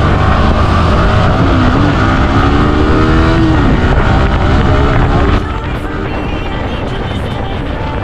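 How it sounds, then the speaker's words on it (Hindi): A modified Yamaha R15 V4 motorcycle speeds off in a street race, its engine revving and rising in pitch under heavy wind rush, then dropping to a steadier drone. "अभी हम लोग यहाँ से गाड़ी निकालते हैं तेज़ी में और अब भगाते हैं गाड़ी को।"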